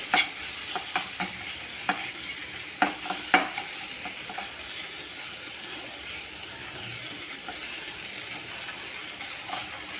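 Mutton sukka with curry leaves being stirred and sautéed in a pan, a continuous moderate sizzle broken by sharp scraping clicks of the spoon against the pan, mostly in the first few seconds.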